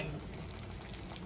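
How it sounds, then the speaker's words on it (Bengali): Egg curry with poppy seed paste sautéing in a pan, a dense, constant close sizzle and bubbling with no pauses. "এবার সামান্য কষিয়ে নেব।"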